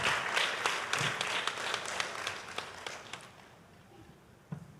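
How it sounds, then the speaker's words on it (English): Applause from an audience at a school literary competition award ceremony, opening with full clapping that thins to scattered claps and fades out over a few seconds. "I think you guys need to give yourself a round of applause"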